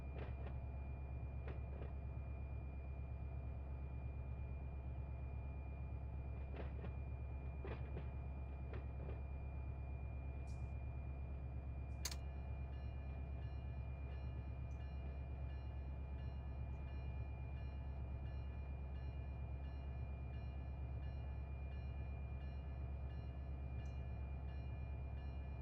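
Diesel locomotives haul a freight train in the Run8 train simulator, a low continuous engine drone with faint scattered clanks and a few brief high tones over the steady rumble.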